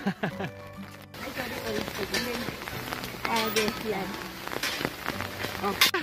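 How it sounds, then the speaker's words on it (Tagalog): Heavy rain pours steadily straight down with no wind across a broad hiss of drops, with voices talking underneath and occasional sharper splashes near the end. "Lakas ng ulan. Pero wala namang hangin."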